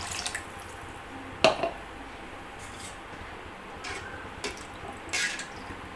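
Water goes into a pot of fish curry on the stove, a few splashy pours and drips with quiet pauses between them.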